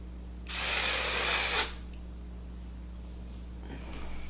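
Flower Beauty Jet Set invisible powder spray hisses in one loud, close burst lasting about a second, then stops, leaving a low hum behind.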